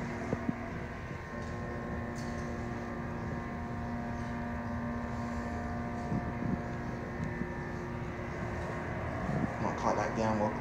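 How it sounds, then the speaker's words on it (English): A Schindler escalator motor runs in a mall, a steady low mechanical hum with faint tonal lines, moderately loud and continuous, with light background clatter and a few brief knocks. "Set up so we can hear the motor. Let's listen to the motor real quick."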